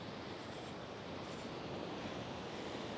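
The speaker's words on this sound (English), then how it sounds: "I would find it a bit scary that the waves are coming" Ocean surf breaks in a steady, dense wash at a Bali sunset beach between Kuta and Legian, with some wind noise, and it carries on without pause and with no voices.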